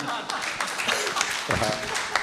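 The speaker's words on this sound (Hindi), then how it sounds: "इसके लिए भी ताली बजा दीजिए" Audience at an open-stage Hindi poetry gathering breaks into scattered clapping, a dense patter of hands rising and falling over about two seconds with a voice mixed in.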